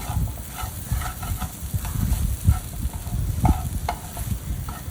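Pea kachori filling sautéed with a wooden spoon in a nonstick pan, with repeated scraping and tapping strokes over a steady background sizzle and no talking.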